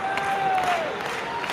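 A baseball crowd suddenly rises in cheering and applause, a dense, steady roar spread across the stands, with a sustained whistle tone sliding through the noise.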